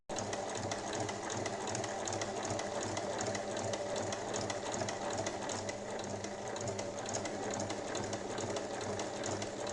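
Sewing machine stitching two fabric pieces together about 1 cm from the edge for a small DIY basket, a steady continuous mechanical whirr running close and unbroken throughout with no talk.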